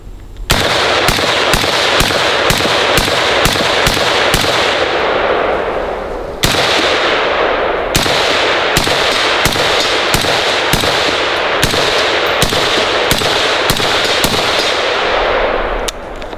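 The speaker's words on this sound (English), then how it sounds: "we're gonna go ahead and fire this suppressed and see how this thing feels" Suppressed battle rifle shots, from an H&K MR762 or a Sig Spear M7, ring out on a shooting range in a steady string of loud, evenly spaced reports, with one short pause midway, close and with no talk.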